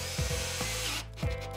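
A power screwdriver driving a screw into a plasterboard ceiling, started gently, with a whirring motor that rises and falls in pitch across a few short bursts, close by.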